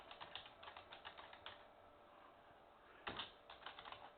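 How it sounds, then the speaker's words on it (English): Fast, uneven typing on a computer keyboard at an old diskless-boot server workstation, keys clattering in bursts with one harder pounding cluster near the end, close and fairly quiet. "You can hear me pounding on the keyboard."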